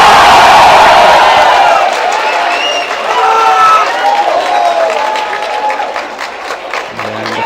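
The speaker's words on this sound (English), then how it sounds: "the more and more rowdy the crowd are getting as well." An increasingly rowdy crowd at the Predator WPA Men's 10-Ball World Championship pool match cheers, whoops and claps loudly, with whistles and shouts rising over the din before it gradually thins out.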